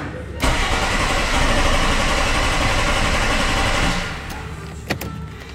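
A Mercedes W126 S-Class (CL 500) that has stood unused cranks and fires, then runs with a loud, steady engine roar for several seconds before dropping off, followed by a few sharp clicks near the end.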